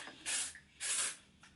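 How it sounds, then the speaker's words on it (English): Texture spray hisses onto hair extensions in three short bursts, close and fairly loud, with quiet pauses between each spritz. "I like to be able to just kind of like, you know, spray it and just kind of like texture it up"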